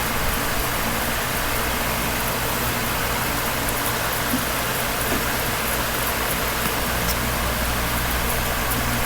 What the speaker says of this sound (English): And a nice burnout